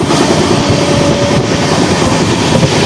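Riding the Chennai to Tirupati Express near Ekambarakuppam at cruising speed: a loud, continuous roar of the moving train from inside a coach, with faint rhythmic wheel clatter running through it.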